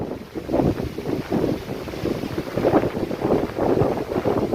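Strong gusting wind in the rain at Chittar dam roars and buffets loudly against the microphone in uneven surges, with no voices.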